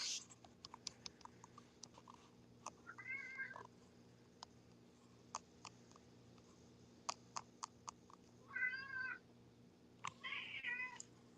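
A cat meows and cries indoors in three separate drawn-out calls spread apart, fairly clear against a quiet room with scattered light ticking clicks.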